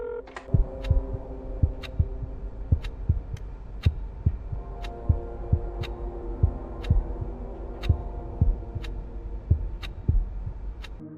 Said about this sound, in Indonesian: yang terdengar bukanlah suara dari ayahnya, melainkan suara detak jantung yang semakin melemah